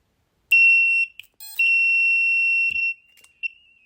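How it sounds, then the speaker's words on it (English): A piercing electronic beep from a shorted FPV drone sounds twice in long steady tones, loud and close, with a faint chirp afterward. "It would just start beeping and shit. And yeah, it would just start beeping."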